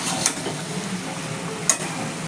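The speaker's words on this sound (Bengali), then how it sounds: "তরকারিটা আরেকটু ভালো করে ভাজা করে নামিয়ে নেব।" Cabbage labra, a mixed-vegetable curry, frying in a pan with a soft continuous sizzle and two brief sharp scrapes of a spatula being stirred, close and unaccompanied.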